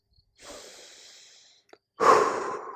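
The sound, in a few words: breathing exercise, blowing out breath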